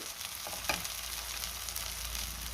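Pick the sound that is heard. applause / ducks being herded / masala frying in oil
masala frying in oil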